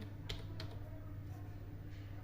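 Computer keyboard keys are pressed while typing a resume in MS Word: a few soft, separate clicks, quiet and close, over a faint steady background hum.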